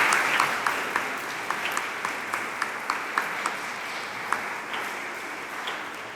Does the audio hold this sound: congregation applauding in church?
yes